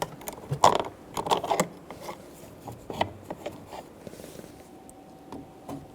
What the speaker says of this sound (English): Using a Phillips head bit, remove the screw.